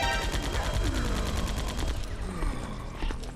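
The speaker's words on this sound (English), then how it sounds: "I do have another bit of criticism for the gun, though, and that's the rate of fire and sound effect" Machine gun fire in the Metal Gear Solid video game: a rapid, evenly spaced burst of shots for about two seconds, then scattered fainter reports trailing off.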